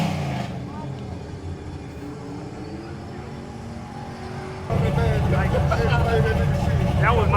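A jacked-up, modified old Monte Carlo drag car with big wheels launches on nitrous at a drag strip. A steady engine drone is followed by a sudden loud surge of roaring power partway through, with faint voices under it.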